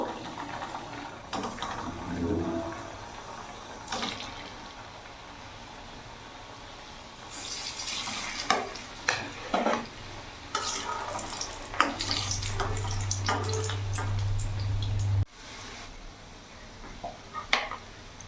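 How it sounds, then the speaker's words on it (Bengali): Samosas dropped one by one into hot oil over a medium gas flame give a bubbling, hissing fry that swells in the middle of the clip, with clattering handling sounds close by and no talk. "তেল গরম হয়ে গেছে এবার আমি গ্যাসের ফ্লেমটা মিডিয়াম করব এবার এরই মধ্যে আমি একটা করে সিঙ্গারা দিয়ে দেবো"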